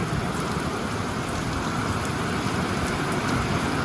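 Steady rain falls without pause at an October sturgeon-fishing spot, a dense even hiss that stays constant throughout with no other clear sounds.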